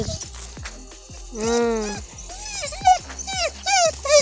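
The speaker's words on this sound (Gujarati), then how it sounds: "અહીંયા જો આપણો પૂછડી હલાવે એવો કૂતરો છે." A dog whimpering and yelping in short high-pitched bursts, close by, with rustling and thumping movement underneath.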